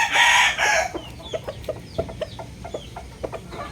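A Classic White Kelso gamecock rooster of a PMM Game Farm bloodline crows loudly and close for about a second, then follows with a string of short, softer clucks.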